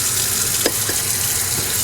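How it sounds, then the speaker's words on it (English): Tap water runs steadily over a sharpening stone while the stone is lapped and cleaned, giving a constant close splashing hiss with a few faint scrapes. "I like doing this under running water"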